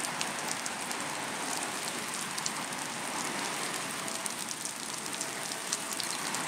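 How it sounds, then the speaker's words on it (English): A heavy downpour on Maui drums steadily on surfaces nearby as dense, even hiss with scattered sharper drop taps, continuous and unbroken for the whole stretch. "this is how it's been all day on Maui today. Just downpours"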